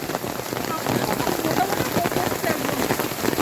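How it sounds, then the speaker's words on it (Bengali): Steady rain pattering on surfaces beside a river in the Sundarbans, a dense continuous hiss of drops that swells slightly and stays close and loud throughout. "কি বৃষ্টি হওয়া শুরু হয়েছে"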